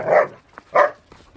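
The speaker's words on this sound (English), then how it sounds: "if you would just don't bark, it would be beautiful" A dog barks twice outdoors near a chicken coop, two loud close barks spaced about half a second apart with faint yips between them.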